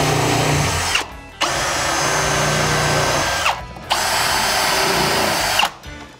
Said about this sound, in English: take a drill, a pre-drill with a countersink bit on it, and I'm going to pre-drill 3 holes